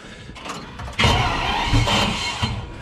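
A V12 bi-turbo Traction car engine cranks and catches, rising into a loud, close rumble that settles into a rough idle with no talk.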